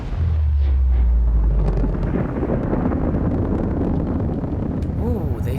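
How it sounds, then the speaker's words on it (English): A dark matter reactor in the Subnautica video game explodes with a deep, loud rumbling roar that fades into a sustained churning blast over several seconds, with a voice briefly heard near the end. "Ooh, they fixed a lot of visuals in that explosion."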